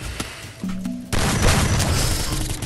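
Gunfire in the Free Fire battle royale game: a sharp shot, then a sustained loud burst of rapid automatic fire that continues to the end, close and dense.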